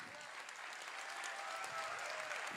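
Audience applause at a Joe Biden campaign event in Hudson, New Hampshire, steady and sustained clapping from a crowd throughout, fairly full and even with no pauses.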